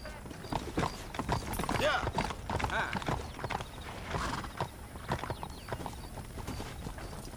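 Hooves clip-clop rapidly as a horse moves in the video game Red Dead Redemption, with a whinny rising over the hoofbeats and faint voices in the background.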